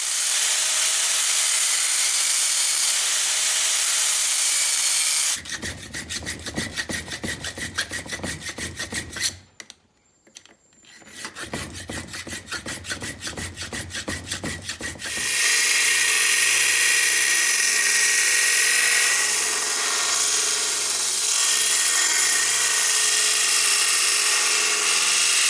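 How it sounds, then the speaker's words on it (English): Long abrasive rasping and grinding on a steel knife guard, heard up close. A steady harsh hiss gives way in the middle to a rougher, buzzy stretch with a brief pause, then returns to a steady hiss, with no talking. "I'm going to take my angle grinder, cut these open as best I can, file them to where they're straight"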